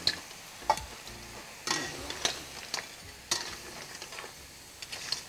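A spoon stirs mixed seafood with mussels in a hot pan: scraping and clinking strokes at an uneven pace over a soft sizzle, close by with no talking.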